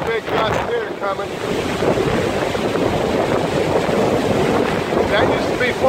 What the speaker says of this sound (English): There's a big gust here coming.